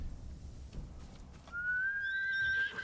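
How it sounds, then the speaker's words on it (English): A horse whinnies once, a rising high-pitched neigh lasting about a second at moderate distance, after a stretch of low rumbling background. "Alright, we got horse here."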